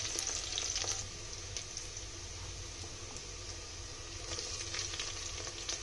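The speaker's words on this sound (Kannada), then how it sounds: "ಡೀಪ್ ಫ್ರೈ ಮಾಡ್ಕೊಳ್ಳಿ" Vegetables deep frying in oil in a pan for vegetable pulao, a steady close sizzle and crackle with faint stirring, no talk.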